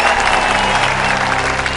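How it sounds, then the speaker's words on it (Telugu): A crowd claps in a dense, steady burst of applause that stays loud and even for a couple of seconds. "చప్పట్లు చప్పట్లు."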